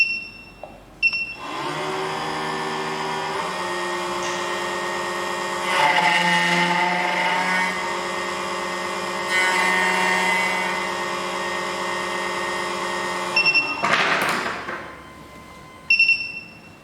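A SEC-E9 key cutting machine from Kukai cuts an FO21 Tibbe key blank with a steady, high whirring drone that holds for about twelve seconds. The pitch shifts slightly as the cutter works, and short clicks and whines mark the start and finish.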